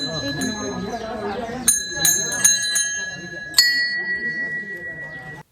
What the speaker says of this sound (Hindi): तो सबसे पहले हम लोग बजाते हैं मंदिर में जाकर के घंटी।